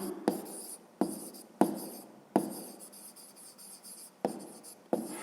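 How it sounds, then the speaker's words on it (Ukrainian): A pen writes out the answer to a fifth-grade math exercise on paper, with several distinct scratchy strokes starting and stopping in bursts, close and clear with no talking. "Записуємо тоді відповідь."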